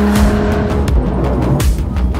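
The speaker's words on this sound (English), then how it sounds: "How about we take the car for a spin?" A car on Pirelli P Zero AS Plus 3 tires driving through a Canadian mountain range, its engine roaring loud and close with tire noise and a brief squealing, sweeping quality, no talk.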